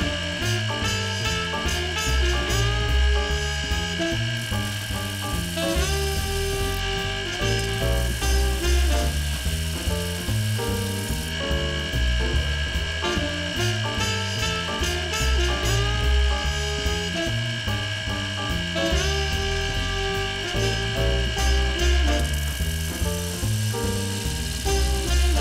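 A homemade, self-designed sanding machine, a second-generation prototype, runs steadily in a shop with a constant mechanical hum and rhythmic pulsing, loud and continuous with no talking.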